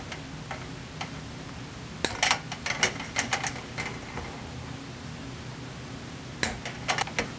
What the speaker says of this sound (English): We want to cut the ballast output wires.